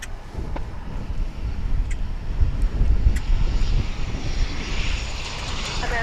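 Airplane taking off at DFW International Airport, a broad, steady engine roar and rumble lasting throughout, swelling slightly in the middle and heard alone without talk.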